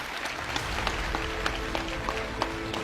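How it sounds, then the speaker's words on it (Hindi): An audience at a Modicare gathering breaks into steady applause, a continuous wash of many hands clapping with a few sharper individual claps standing out, moderately loud and unbroken by talk. "दिल खोल के ताली बजाइएगा"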